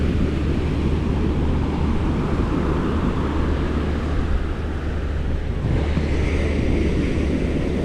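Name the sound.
ocean waves on the Outer Banks beach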